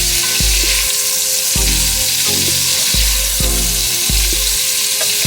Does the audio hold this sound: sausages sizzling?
yes